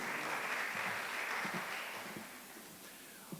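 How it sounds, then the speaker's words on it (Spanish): Audience applause welcoming a guest speaker at a heritage stewards' gathering in Funza, a steady broad wash of clapping that gradually thins and fades toward the end, heard on its own without talk. "Nuevamente, recibámoslo con un fuerte aplauso."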